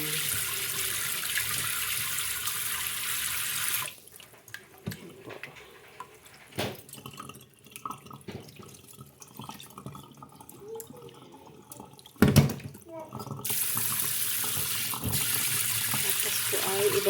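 Running tap water splashes as mung beans are rinsed in a kitchen sink to clean off dirt, a steady broadband flow that stops partway through, leaving quieter handling clatter and a sharp knock before the water resumes.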